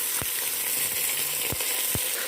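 Beef sizzling as it fries with onions in a pot for biryani, a steady hiss with a few sharp stirring clatters spread across the stretch.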